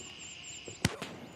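A single sharp gunshot cracks out in the Gray Zone Warfare video game, followed moments later by a fainter second report, set over a steady windy ambient hiss.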